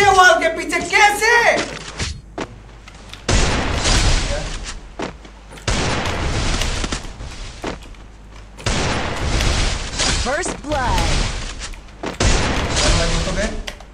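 Gunfire bursts from the battle royale game Garena Free Fire, including an M10 rifle, coming in loud repeated volleys separated by short pauses, with talk at the start.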